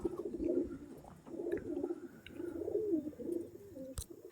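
Pigeons in a sale loft coo in a steady, repeating rhythm of low throaty rolls, close by and moderately quiet, with no talking.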